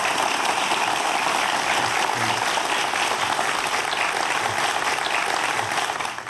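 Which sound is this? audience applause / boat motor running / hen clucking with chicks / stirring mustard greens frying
audience applause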